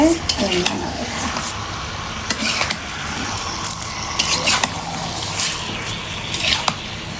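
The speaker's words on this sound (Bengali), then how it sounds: "এখানে সুন্দর করে হচ্ছে মশলার সাথে মাংসটা মাখায় নিতে হবে" Meat is tossed with spices in a cooking pot, giving rhythmic scraping and knocking stirs over a close, constant frying sizzle, with a few sharper clinks.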